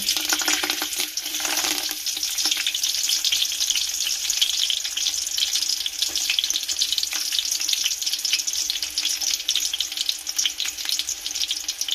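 Onion, green chillies and whole spices fry in a pot of hot oil over low to medium heat, giving a steady, dense sizzle that holds evenly throughout with no voices.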